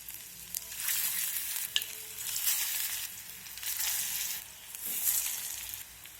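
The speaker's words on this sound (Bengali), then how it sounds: "এখন এই তেলের মধ্যে তৈরি করে রাখা বড়াগুলো দিয়ে দেব" Drumstick flower fritters fry in hot refined oil in a kadai, giving a soft continuous sizzle and bubbling with occasional light stirring, close but fairly quiet.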